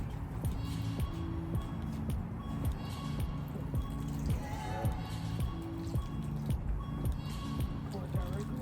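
Water poured around the base of plants in an old container patio garden, a faint dripping trickle beneath close talking voices.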